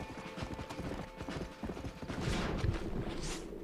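Horse hooves galloping in the video game Red Dead Redemption, a quick rolling clip-clop of hoofbeats, close and fairly loud over game ambience, with a brief swell near the end.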